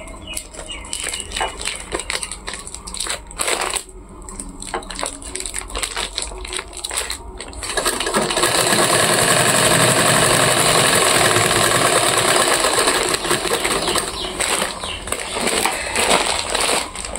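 An electric sewing machine stitching a cloth bag: intermittent clicks and short fabric-handling bursts, then a loud, sustained mechanical whir running close by for several seconds before easing into lighter rattling, with no talk.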